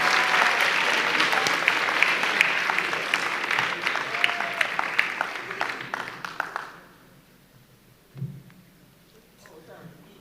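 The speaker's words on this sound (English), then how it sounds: "Let's give him a round of applause, everybody." An audience at a junior national spelling bee applauds loudly with dense steady clapping that fades out abruptly after several seconds, leaving near silence with a faint bump afterward.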